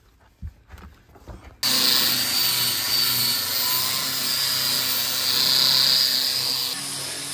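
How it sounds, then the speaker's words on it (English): An electric sander starts up after a few soft knocks and handling sounds. It runs at a loud, steady whine and buzz, then drops to a lower, quieter level near the end, with no talking. "sander."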